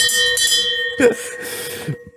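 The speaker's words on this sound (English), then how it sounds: "brought us a last orders bell for the podcast" A last orders pub bell is rung during a podcast, giving one clear metallic strike over a sustained ringing tone, with voices and bustle around it.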